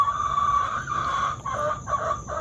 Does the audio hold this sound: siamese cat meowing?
no